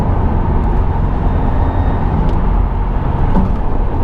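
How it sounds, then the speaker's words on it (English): A modified Subaru WRX STI engine with a hollow, airy intake whoosh, a steady close drone that stays loud and constant without any break. "This car sounds different. It sounds like it's sucking air."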